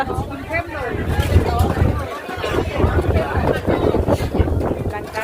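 Strong storm wind roars steadily and loudly across an outdoor Thai merit-making festival, buffeting the microphone with a constant rumble while people talk and shout beneath it.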